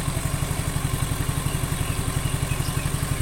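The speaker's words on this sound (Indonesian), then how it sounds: "normalnya suaranya seperti ini untuk Suzuki Next 2." A Suzuki Nex II scooter engine idles with a steady, rapid mechanical putter, a close, even clattering pulse that holds constant throughout with no one talking.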